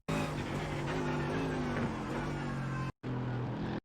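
An AMG GT3 race car in iRacing at Monza roars loudly and continuously as it heads into a hard braking zone, the engine note dropping, with a brief cut near the end.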